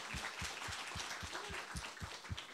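A church congregation at a Sunday service claps together in a steady, even rhythm, roughly four claps a second, sounding faint and distant as a group.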